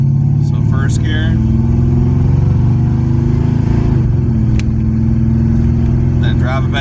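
A 1980s Ford car with an AOD automatic transmission accelerates in first gear. The engine drones loudly and rises in pitch while someone talks over it.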